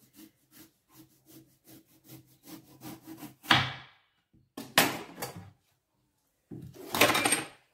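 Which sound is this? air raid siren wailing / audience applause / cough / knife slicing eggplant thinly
knife slicing eggplant thinly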